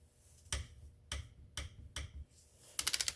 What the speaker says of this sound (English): Whenever torquing these types of plugs here, nice and slowly.